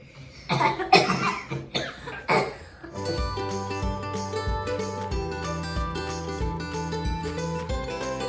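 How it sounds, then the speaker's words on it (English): A person coughs several times in quick bursts near the start, then stops as steady music plays through the rest. "Why am I coughing?"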